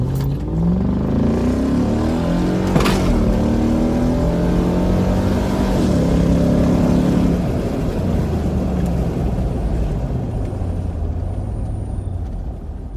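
A Nissan Patrol Y62 engine runs loud and close, its pitch rising and falling through several revs over a steady roar, with no voices.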